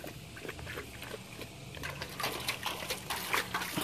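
A dog laps water in quick, wet splashing slurps close by, growing louder toward the end, with light background noise.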